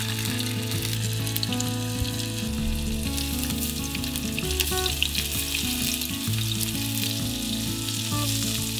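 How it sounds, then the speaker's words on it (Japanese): Shallow-frying in about two tablespoons of olive oil in a frying pan, with food lightly dusted in potato starch, gives a loud, continuous crackling sizzle with no talk. "フライパンに大さじ2程度のオリーブオイルを入れて、片栗粉小さじ1を薄くまぶしながら揚げ焼きします"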